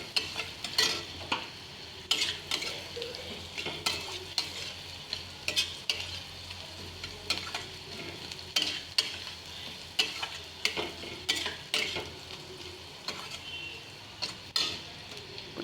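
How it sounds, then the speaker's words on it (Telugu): A spoon stirs carrot curry with onions frying in a pan, giving repeated scraping clinks at a loose rhythm over a soft continuous sizzle, close up. "మధ్య మధ్యలో ఇలా కలుపుతూ ఉండాలి"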